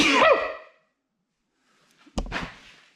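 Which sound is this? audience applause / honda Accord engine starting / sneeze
sneeze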